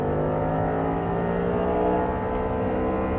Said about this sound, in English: right off the brake and right back on the throttle